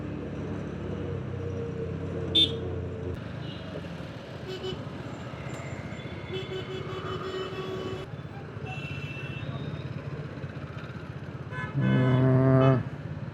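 Busy Mumbai road traffic with trucks and buses, heard while riding a scooter: a continuous engine and road rumble, a brief knock early on, and a loud horn blast near the end.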